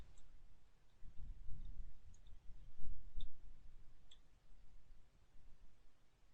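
Faint computer mouse clicks while setting up a Java project in the Eclipse IDE, a handful of sparse, crisp single clicks spaced a second or so apart over quiet background hum.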